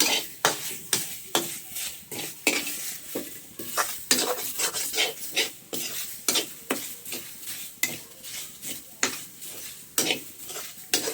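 Elephant yam pieces are sautéed and stirred in a dry pan, giving a steady run of scraping, clattering spoon-on-pan strokes with a light sizzle, close and fairly loud, repeating in quick irregular rhythm with no voices.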